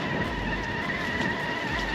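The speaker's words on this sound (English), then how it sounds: "We're in second gear with our SCX6." An SCX6 RC crawler car runs in second gear, a quiet steady electric motor whine with a constant buzzing tone and faint crunching of the terrain underneath.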